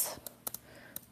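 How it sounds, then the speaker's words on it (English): Keyboard being typed on with one hand: a few sparse, soft clicks spaced irregularly against a quiet room background, faint and close. "I'm using one hand to type."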